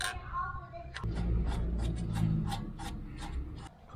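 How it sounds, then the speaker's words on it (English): Brake caliper pistons being pressed back in on a 120-series Toyota Prado during a pad change, a low grinding rub with scraping strokes and light clicks, close up, with a voice briefly speaking at the start. "Press the pistons back in."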